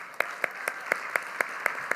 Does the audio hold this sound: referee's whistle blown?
no